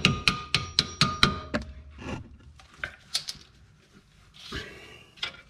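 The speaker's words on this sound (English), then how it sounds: "Give a couple lightly taps with the hammer." Several light hammer taps on the front lower control arm of a 2002 Lincoln LS ring out in a quick, even series, followed by scattered metallic clinks and scraping.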